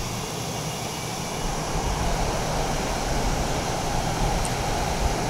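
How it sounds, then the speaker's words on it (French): A simulated F-117 Nighthawk stealth jet in Microsoft Flight Simulator, its engine starting and building into a steady, loud broadband roar that swells slightly partway through and holds without pause. "Et démarrage du moteur."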